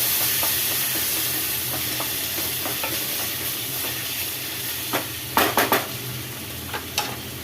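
Cooked moong dal is stirred into sautéed snake gourd in a pan over a constant sizzle, with soft scraping strokes throughout and a few sharper clinks of the spoon against the pan near the end.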